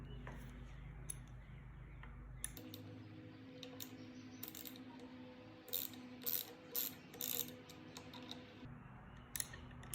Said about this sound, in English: I'm going to use the same T27 Torx bit, and I'm going to remove both screws over here